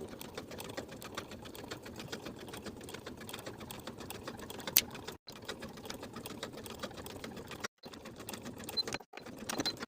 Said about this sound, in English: Now we'll sew this pocket facing in place from dot to dot,